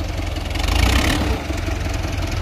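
A New Holland Dabung 85 tractor engine drones loud and close as it drags a laser land leveller through sandy soil, a steady heavy rumble that swells briefly under load.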